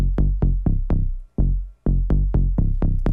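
Punchy synth pluck bass notes in a bouncy rhythm, each a short bright attack that quickly decays, with a brief gap midway.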